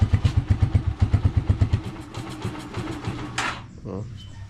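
Motorcycle engine, freshly refuelled, fires up with a rapid, punchy chugging beat that is loud and close, then settles into a rougher, quieter run before a sharp clatter near the end.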